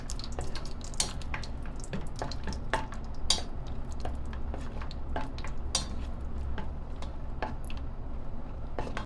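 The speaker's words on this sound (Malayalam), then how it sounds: "അതൊന്ന് ഈ ഓയിലെല്ലാം ചൂടായി അതിലോട്ടിട്ട് ഒന്ന് വറുത്ത് കോരിയെടുക്കാം." Cashews and raisins fry in hot oil in a pan, making a dense, steady bubbling sizzle with frequent sharp crackles and light metal scrapes from stirring, close and even in level, with no talking.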